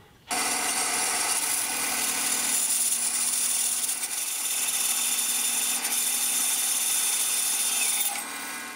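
A power saw or similar tool trims a wooden guitar neck blank close to its top, cutting in one steady, loud, continuous run of nearly nine seconds with no talk.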